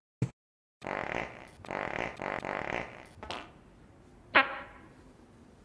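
A series of loud, rumbling fart sound effects in the video game Shadowrun Dragonfall: Director's Cut, in several pulsing bursts, trailing into a sputter and ending with a sharp squeak.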